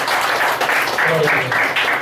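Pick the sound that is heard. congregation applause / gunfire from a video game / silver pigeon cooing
congregation applause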